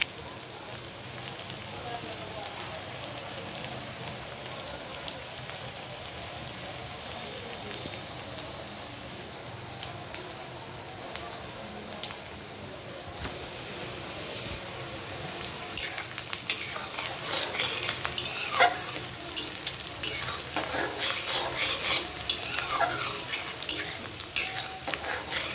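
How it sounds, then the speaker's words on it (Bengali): Chopped onions fry in oil with bay leaf and whole cumin, a soft crackling sizzle that grows louder and busier in the second half with stirring scrapes and spatters. "পেঁয়াজগুলো এখন লাল লাল করে ভেজে নেব।"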